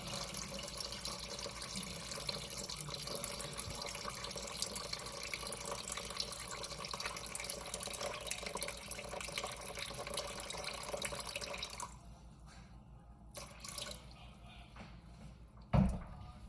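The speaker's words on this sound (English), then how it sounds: "I'm going to add 700 grams of water." Water pours from a tap into a bowl for tartine-style sourdough, a steady close trickling splash that stops partway through, followed by quiet with a few faint clinks and a brief knock.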